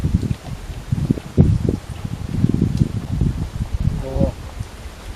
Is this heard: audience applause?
no